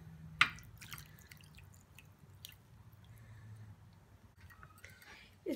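Water steeped with mint leaves is strained, giving soft scattered drips and wet squishing at close range, with a sharp splash near the start and another at the very end, all quiet with no speech.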